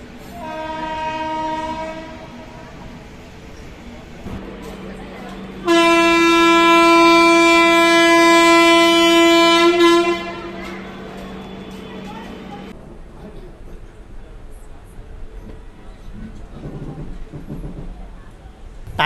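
The Pandian Express from Madurai to Chennai sounds its horn in long, loud, harmonic blasts while departing Madurai Junction, followed by the rumble of rolling carriages; people talk faintly in the background.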